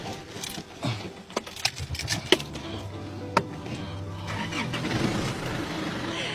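A new pickup truck's engine starts with a few sharp clicks and catches, then settles into a low, steady idle rumble that grows slightly louder toward the end.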